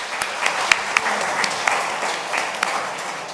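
Audience clapping at a book launch event, a sustained round of applause from a crowd in a hall with a few louder individual claps standing out.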